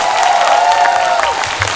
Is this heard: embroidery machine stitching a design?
no